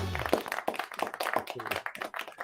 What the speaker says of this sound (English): Oh, you added applause. It's a separate button.